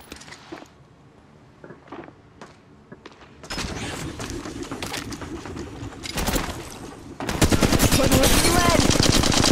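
Automatic gunfire in the mobile battle-royale shooter Apex Legends Mobile, sparse shots at first, then sustained loud bursts that grow denser and closer toward the end, with faint game voices underneath.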